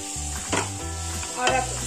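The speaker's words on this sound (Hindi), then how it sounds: "और अब इसको अच्छे से मिक्स कर लेंगे और थोड़ा सा गैस तेज करके इसको 1 से 2 मिनट के लिए अच्छे से ऐसे मिक्स करते रहना है" Moong dal chilla batter spiced with red chilli and coriander powder being stirred in a pan over a gas flame, a soft scraping sizzle with steady low hum and two louder stirring strokes, no talking.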